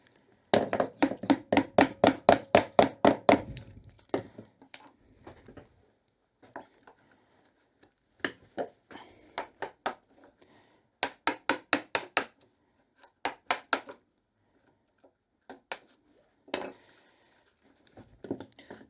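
A chisel works wood for a hand-cut half lap joint, giving bursts of quick, sharp, close knocks and taps in rhythmic runs separated by quiet pauses.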